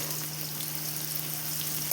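Soaked soybean chunks fry in a pan for a vegetable biryani, a soft continuous sizzle and crackle with a faint steady hum underneath and no voices.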